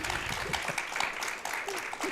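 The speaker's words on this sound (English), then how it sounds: "I trained this audience to clap right before, so they did a really good job" A live audience at a podcast recording applauds in a continuous, fairly soft wash of clapping from many hands, with voices mingling faintly underneath.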